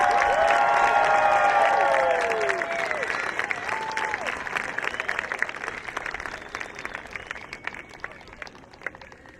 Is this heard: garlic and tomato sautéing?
no